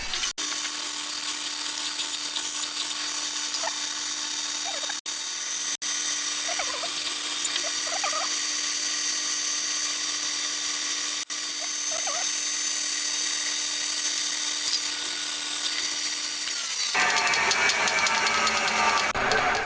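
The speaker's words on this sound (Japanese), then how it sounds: "まずは位置確認を兼ねてセンタードリルで穴を開けてきます。" A center drill on a machine tool bores holes into a cylinder for a handmade 125cc four-cylinder, 16-valve engine, giving a steady, close mechanical whine with faint scraping that runs alone and shifts in tone near the end.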